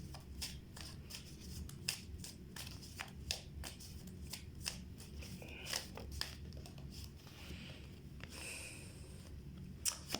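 Tarot cards being shuffled by hand, a soft steady riffling and flicking that repeats in quick bursts, close and quiet, with no voices over it.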